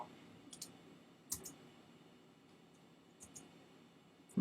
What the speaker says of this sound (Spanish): si le doy tabular, es cuando hace, ¿ves? Clic, hace el ruidicito.